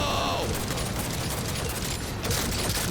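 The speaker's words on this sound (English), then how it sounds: "who's she shooting at?" Rapid automatic gunfire in the video game Cyberpunk 2077, a dense, loud rattling barrage of shots with game sound effects running continuously throughout, voices faintly under it.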